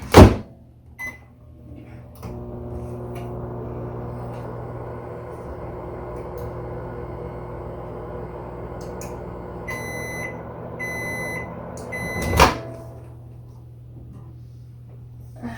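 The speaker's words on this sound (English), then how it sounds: "now we're going to take and microwave this" A microwave oven heating chocolate hums steadily for about ten seconds with a low drone, a few beeps near the end, then a door clunk.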